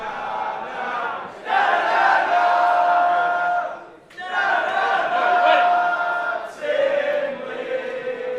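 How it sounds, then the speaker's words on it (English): A loud, vocal crowd at an independent professional wrestling show in Sheffield roars in two sustained bursts, dipping briefly near the middle, with chants and shouts layered throughout. "Very vocal crowd here tonight at We The Independent."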